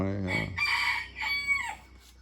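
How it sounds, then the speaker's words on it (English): A rooster crows loudly and close by in a backyard chicken setup, a single full cock-a-doodle-doo with rising and falling calls lasting about two seconds, standing alone without talk. "Excuse the rooster."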